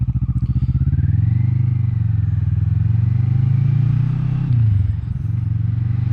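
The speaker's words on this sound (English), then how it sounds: "Helps if I turn the engine on first, doesn't it?" Kawasaki Vulcan S motorcycle engine running close by as the bike pulls away, a steady low throbbing idle that rises slightly, dips, then settles again.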